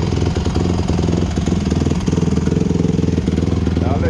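A 2008 Honda CRF150R motorcycle engine idles close by with a steady, even, loud rapid thumping pulse throughout.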